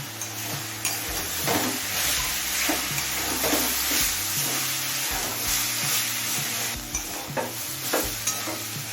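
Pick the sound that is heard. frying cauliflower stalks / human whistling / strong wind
frying cauliflower stalks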